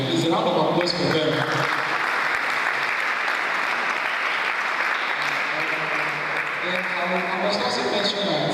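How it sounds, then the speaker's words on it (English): An audience at a business conference claps steadily throughout, a sustained round of applause with a voice speaking over it near the start and end. "It's a round of applause for them."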